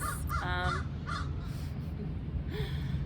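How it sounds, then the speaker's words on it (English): Crows cawing outdoors: several harsh, moderately distant calls in short bursts over a constant low background hum, fairly faint, with no talking. "The birds are still all around."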